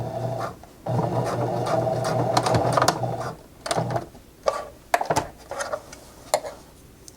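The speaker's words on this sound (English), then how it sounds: "I'm going to turn and sew a diagonal seam backwards." A sewing machine stitches a child's fabric face mask: a steady, close mechanical whir for a couple of seconds, then stops, followed by short clicks and fabric handling before brief bursts of stitching resume.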